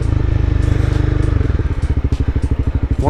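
Close-up rumble from the exhaust pipes of a Honda CBR 300R motorcycle, a fast, even, loud throb that loosens into slower, uneven pulses as the engine eases off.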